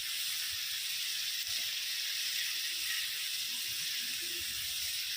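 Dried red chilies sizzle in hot oil while village country chicken fries for a spicy dry roast, a steady soft hiss with faint crackles throughout and no talking.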